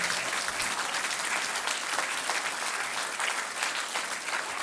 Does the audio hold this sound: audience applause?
yes